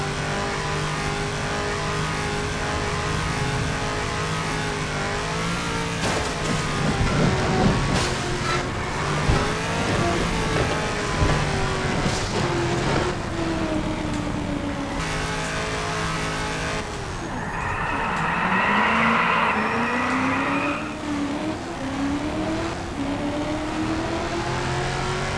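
A sports car in Just Cause 2 roars and revs loudly during a thunderstorm, the engine pitch climbing and dropping with gear changes, broken by a sharp tire skid squeal near the end, with no talk.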